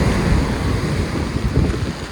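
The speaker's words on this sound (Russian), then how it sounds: "Очень красивая композиция из 3 волн" Black Sea waves break on a winter shore at Lazarevskoye, heard as a steady, loud, rumbling wash of surf with strong wind buffeting throughout and no voices.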